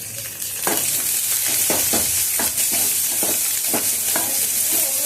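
Two dried red chillies frying in a hot tempering for spinach sambar, a continuous bright sizzle with regular stirring clatters of a spoon against the pan.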